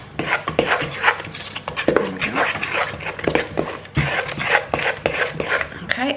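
Wet banana peel cake batter being mixed by hand in a bowl, giving repeated squelching strokes and scraping in a rough rhythm, close and fairly loud, with no talking.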